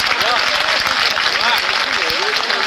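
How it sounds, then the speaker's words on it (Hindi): A crowd claps in a dense, sustained burst of applause, loud and close, while a voice speaks over it at a Rajasthan government ministry employees' meeting. "इस मंच का संचालन करने पर तालियां साथियों सुनील मोदी जी के लिए।"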